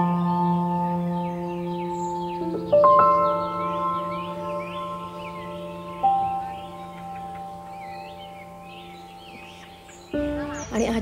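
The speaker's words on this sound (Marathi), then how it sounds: "पक्ष्यांचा किलबिलाट अगदी मनाला प्रसन्न करून टाकतो" Morning birds chirp and twitter in the distance at a hilltop temple site, small calls scattered over a steady droning tone and sustained musical notes that run throughout.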